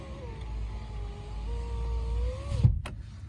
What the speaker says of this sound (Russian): Сейчас закрою окно.